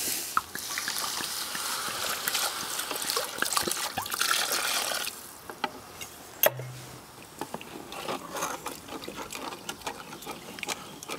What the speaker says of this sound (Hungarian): Hú, ez még kell tegyek egy kis vizet.